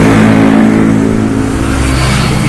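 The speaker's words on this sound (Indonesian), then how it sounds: "pagi hari ini udah cukup ramai juga kendaraan roda 2 dan roda 4 yang melintas ya" Motorbikes and cars crossing the Mahakam bridge in the early morning: loud, continuous engine drone and tyre rumble from passing traffic nearby, with no talking.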